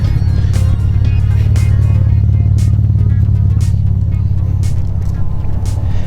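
A 1991 Mitsubishi 3000GT VR4 twin turbo with a huge exhaust system accelerates, giving a loud, dense, steady low engine roar with sharp intermittent ticks over the top, heard close and without talk.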